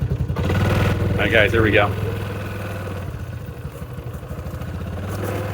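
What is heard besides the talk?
motorcycle riding on the road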